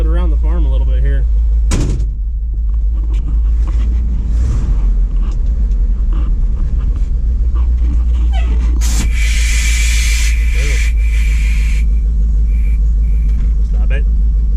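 A Ford F700 salt spreader truck idles and rolls slowly around a farm, its deep low engine rumble steady throughout, with a clunk and some mechanical clatter and hiss partway through, while people talk over it.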